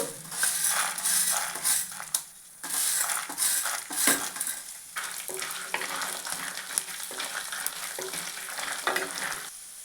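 Lentils frying in a pan with dried red chillies for mint chutney, a loud crackling sizzle broken by frequent spoon scrapes and metallic clinks against the pan.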